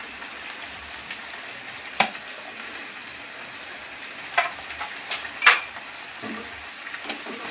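Shrimp and sliced cucumber fry in a pan while being stirred, a quiet constant sizzle broken by several sharp spatula scrapes and clicks spaced irregularly.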